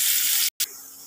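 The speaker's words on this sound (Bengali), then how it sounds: "পেঁয়াজটাকে আমি একদম ব্রাউন কালার করে ভেজে নেবো।" Onions fry in hot oil until brown, giving a loud, steady sizzling hiss that cuts out for an instant and then returns slightly softer.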